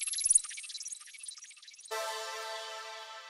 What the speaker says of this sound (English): And then we have this next effect here, also from an XV5080.